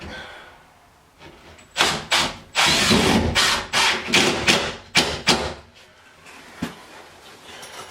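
A power drill drives drywall screws into a closet wall during a home remodel, close and loud: several short whirring bursts of varying length, separated by brief pauses.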